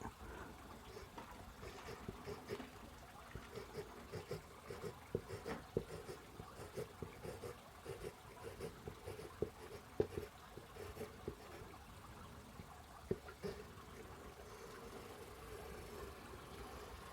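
Charcoal scratches and scrapes across paper while tracing an Allosaurus drawing, a steady close scratchy rasp with small sharp ticks scattered over a constant low hum.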